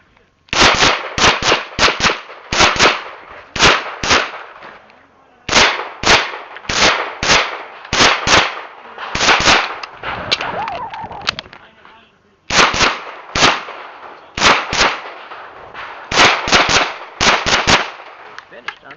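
Rapid pistol shots ring out during a USPSA Carry Optics competition stage, fired in quick strings of sharp, loud cracks with brief pauses between volleys as the shooter moves between positions.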